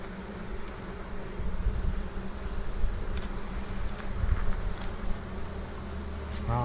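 Honey bees from a new swarm and a year-old hive buzz in a dense, continuous drone close to the microphone, with a few sharp ticks scattered through the hum and no speech.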